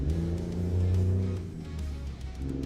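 A truck engine in American Truck Simulator, a steady low droning hum that dips in pitch and loudness midway as if shifting gears, then picks back up, moderately loud with no talk.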